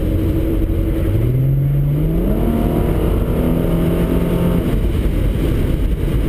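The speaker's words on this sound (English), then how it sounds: "I'll give you a preview of how the car sounds like." A Ford Mustang V6 engine idles loudly, then revs up in a rising pitch, holds a steady higher drone, and drops back down near the end.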